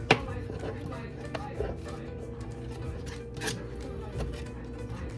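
A knife chops cilantro on a cutting board in a home kitchen with quick irregular taps, fairly close, while a person talks over the cutting.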